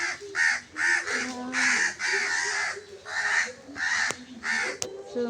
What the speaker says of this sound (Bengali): কাকগুলান